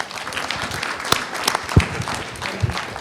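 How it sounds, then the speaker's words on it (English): Scattered applause from a conference audience for a panel, moderate and somewhat sparse, with a few louder individual claps standing out. "Can I have you clapping this panel"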